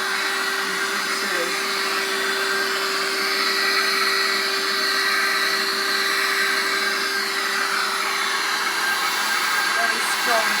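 A Vax Air Cordless Switch handheld vacuum cleaner runs with a steady high-pitched whine and airy suction roar, constant and close with no change in pitch.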